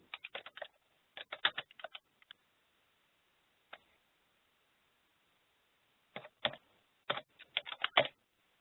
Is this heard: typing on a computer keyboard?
yes